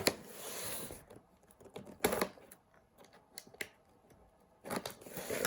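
A blade slices open a cardboard shipping box in short, crackling bursts of cutting and tearing with brief pauses between strokes, close up and with no one talking.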